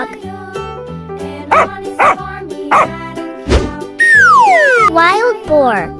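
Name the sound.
dog barking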